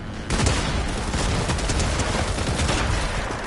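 Weapons firing in Fortnite, a loud dense barrage of rapid shots that starts abruptly and continues steadily, with no talk over it.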